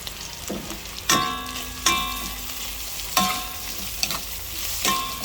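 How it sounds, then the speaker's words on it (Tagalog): Hot dog pieces and shredded boiled chicken sizzle softly in a pan, with a spatula scraping and clanking against the metal every second or so. "Basta gisa-gisa lang ng konti."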